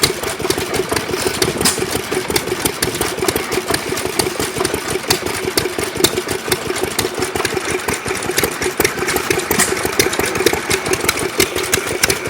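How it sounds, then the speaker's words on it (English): A homemade engine runs steadily at a loud, close idle, its chugging mechanical beat continuous and even throughout with no talking. "There they go with the homemade motor."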